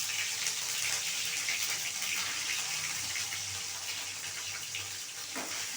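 A little water is poured into ginger paste masala for aloo dum, a faint, steady splashing flow that runs evenly for several seconds and fades slightly toward the end, with no talking.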